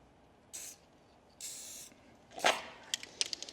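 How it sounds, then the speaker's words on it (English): Short bursts of aerosol lubricant sprayed into parts of a high-mileage Fiat 500, three separate hissing puffs close by, the last mixed with clicks and small clatters of handling. "Spray some lube in here"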